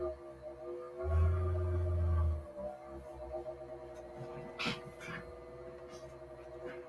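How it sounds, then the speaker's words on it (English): A computer emits a steady electronic hum with a brief, loud low tone near the start and a few faint beeps, heard indoors and close to the microphone. "So if you hear about beep beep beep humming, that's that computer."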